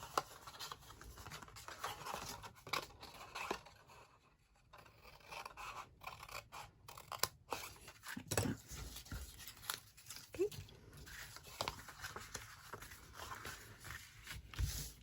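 Scissors snip pieces off a papercraft tag topper box, giving repeated close, crisp cuts and scraping rustles at an uneven pace, with a short quieter gap partway through.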